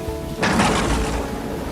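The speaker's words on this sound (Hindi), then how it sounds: "बिजली कड़की और देखते ही देखते घनघोर वर्षा होने लगी" A sudden loud crack of thunder breaks in, followed by a dense roar of heavy rain.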